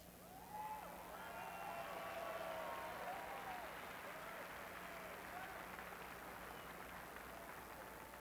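Convention audience applause at the 1992 Democratic National Convention, a large hall crowd clapping and cheering in a sustained, distant wash with scattered shouts rising above it.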